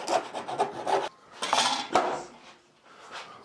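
A hand saw cuts through plywood with a few quick rhythmic rasping strokes, then pauses before a couple of longer, heavier pulls, all close and fairly loud.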